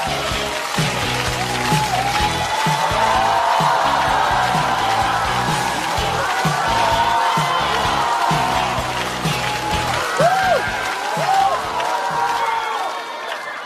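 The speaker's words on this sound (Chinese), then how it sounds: "掌声欢迎呼兰" Studio audience at a Chinese stand-up comedy competition show applauds and cheers as a comedian is welcomed onstage: a loud, sustained wall of crowd noise runs the whole time, blended with stage music and no clear talk.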